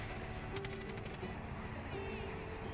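Mounted machine guns on a Ram truck in Far Cry 5 fire steadily, with rapid bursts running continuously under engine rumble and a little background noise.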